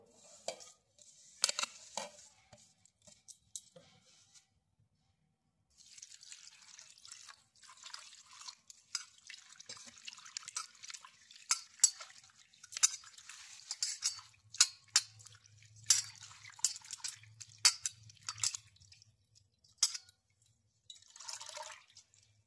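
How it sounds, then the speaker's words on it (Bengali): Neem leaves are washed in water, with soft splashes, drips and rustling handling sounds coming in irregular bursts, fairly close but quiet, separated by short pauses. "নিম পাতাগুলো আমি ধুয়ে নেবো।"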